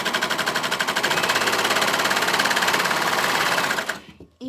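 Close, loud sewing machine running fast while stitching straight lines, a dense rhythmic mechanical rattle that holds steady for about four seconds before slowing and stopping with a few clicks.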